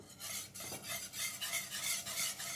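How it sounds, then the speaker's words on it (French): Rhythmic scraping strokes of a utensil stirring aioli into warm fish cooking liquid in a pan, close and soft, repeating steadily. "je vais incorporer l'aioli dans la cuisson"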